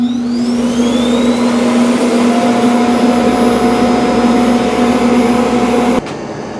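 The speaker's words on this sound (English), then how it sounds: "Here's the Eufy X10 is going to start collecting dust" A Eufy X10 robot vacuum's base station auto-empties dust with a loud, steady suction roar and a rising whine that holds for six seconds, then cuts abruptly to a quieter hum.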